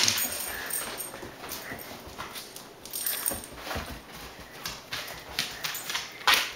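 A dog moves about indoors with scattered light clicking footfalls and soft whimpers, fairly quiet and close, with no talking.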